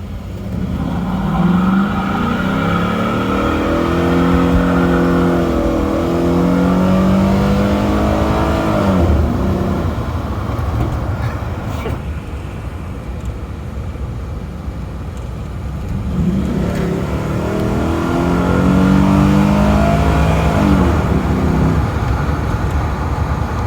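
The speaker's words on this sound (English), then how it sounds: "we're just out here roasting tire. I guess we'll go to the stop sign, let her eat" Car with a cam accelerating hard and roasting its tires in cold weather, two long loud revving pulls with rising engine pitch separated by a quieter lull, close and with no talk.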